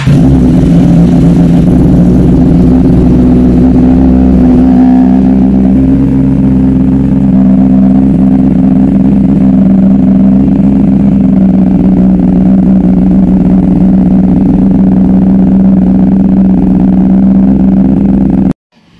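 A car engine runs close and loud, holding a deep, steady droning hum with slight swells of revving before cutting off abruptly at the end.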